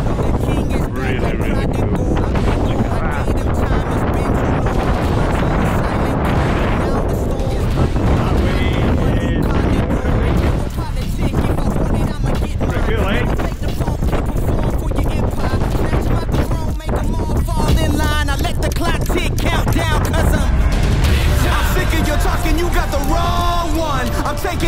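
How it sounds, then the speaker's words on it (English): Wind gusts across the microphone at Clachtoll Beach on the Scottish coast, a steady loud rumble running the whole stretch, with speech and a voice heard intermittently over it. "A bit windy."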